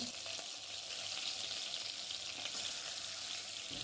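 Chicken pieces fry in a pan over low heat, giving a soft, steady sizzling hiss that carries on evenly without pause.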